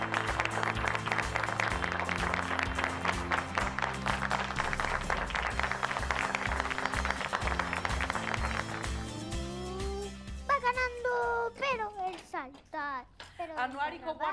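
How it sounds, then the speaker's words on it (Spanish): Sixth grade students receiving applause, a dense burst of clapping from a group that runs for several seconds, then fades as voices and speech take over near the end. "Un aplauso para ellos, por favor."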